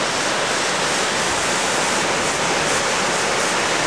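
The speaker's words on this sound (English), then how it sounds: "climb back to the waterfalls again" Steady, full roar of Lepreau Falls in New Brunswick, dense and broadband, constant throughout with no pauses, close and loud.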